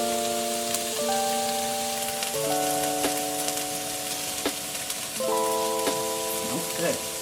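Onions sizzling in a pan for a beef lasagna sauce, a steady crackling hiss running throughout beneath a layer of sustained musical tones.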